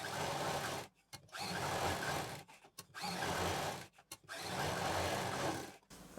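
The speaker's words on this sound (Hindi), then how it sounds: "इसको सिंपल पैक करते हुए चारों तरफ मशीन चला देंगे।" Sewing machine stitching around the edges of small fabric pieces for an organiser, running in steady whirring bursts of a second or more separated by brief pauses, close and fairly quiet with no talk.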